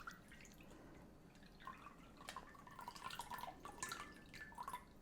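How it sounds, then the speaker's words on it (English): Juice draining from canned sliced pineapple, a faint trickling and dripping with scattered small drops, quiet and close, with no talking. "We're going to drain the juices."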